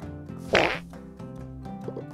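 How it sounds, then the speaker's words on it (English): A cartoonish fart sound effect in the farming video game Sun Haven, one loud wet burst near the middle over steady game music, followed by a smaller sputter. "The farts come in different sounds."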